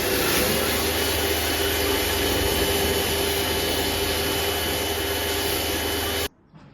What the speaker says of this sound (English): I used a wire brush on the angle grinder to remove as much of the rust as I could